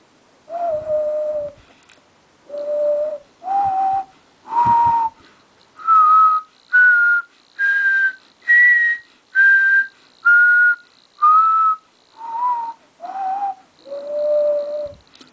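A person whistles a slow series of clear, sustained notes, each separated by short pauses, climbing in pitch and then stepping back down.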